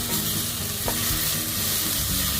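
Lapu-lapu fish in sweet and sour sauce cooks in a pan with a dense, continuous sizzle and bubbling, close and steady throughout, with a faint stir or scrape partway.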